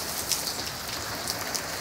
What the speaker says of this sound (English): It's raining in Florida.